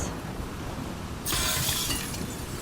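Glass shatters in The Last of Us Part 2, a sudden loud, bright crash of breaking panes that bursts in midway and sprays on with fragments over a low ambient rumble.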